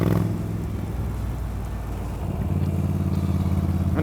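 A Moto Guzzi V9 Roamer motorcycle engine rumbles steadily while riding along in fourth gear at around 30 miles an hour, with a deep low throb and a slight swell in revs near the end, with wind noise and no talking.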